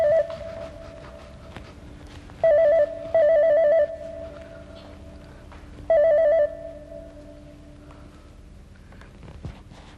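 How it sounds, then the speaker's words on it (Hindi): A telephone rings indoors in a police crime drama, with a warbling electronic ring in three short bursts, each about a second long. Quiet room sound fills the pauses between rings. "फोन बज रहा है, कोई उठा भी नहीं रहा।"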